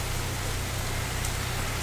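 Steady rain falling, a dense even hiss of drops on a surface, continuous and moderately loud throughout with no voices.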